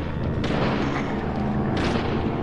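A gunshot in the video game Deadly Premonition booms loud and close, with a second sharp report near the end over dense, continuous game noise.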